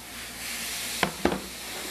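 Zucchini noodles sizzling in olive oil in a hot pan, a steady soft frying hiss with two quick stirring clatters near the middle.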